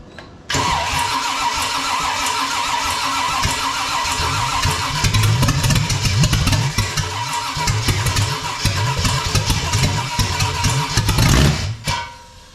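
A 454 V8 in a 1972 Camaro cranks steadily for about eleven seconds, the starter's rhythmic churning loud and close, with the engine trying to catch but not firing before the cranking stops.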